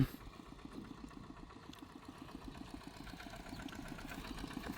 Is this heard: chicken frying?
no